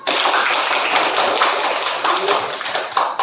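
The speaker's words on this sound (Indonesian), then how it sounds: "Luar biasa, tepuk tangan." A group at a fifth-grade class session claps together, giving a loud, close, rapid patter of hand claps that stays steady for a few seconds.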